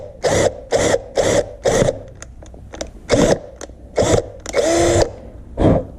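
A power drill runs in short repeated bursts while boring holes for a 700R4 transmission shift kit, close and loud with brief pauses between each burst.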